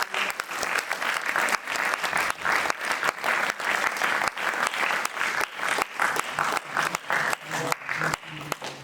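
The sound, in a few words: audience applause after a theatre play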